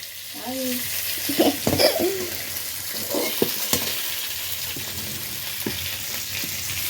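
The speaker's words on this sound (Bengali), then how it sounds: "দেখুন এই যে জলটা দিল, বাবা কি আওয়াজ দেখেছেন?" Water poured into a hot kadai of frying chicken for home-made chicken soup, with a loud sizzle and stirring bursting up then settling into a steady fry, with brief voices and clatter nearby.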